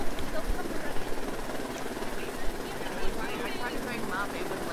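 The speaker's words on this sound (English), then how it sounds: "Oh, they're in a helicopter." Helicopter in a snowy Antarctic expedition video game, a steady broadband rotor and engine roar running throughout under excited talk.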